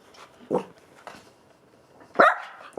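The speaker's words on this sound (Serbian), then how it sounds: "Nemoj da laješ." A dog indoors gives a few short, sharp barks and yips at irregular intervals, close by, with quiet gaps between them.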